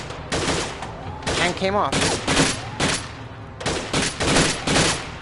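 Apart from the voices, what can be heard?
shotgun gunfire from a PS4 video game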